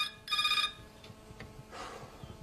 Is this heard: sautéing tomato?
no